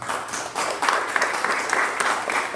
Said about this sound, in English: So give Mark a round of applause for that,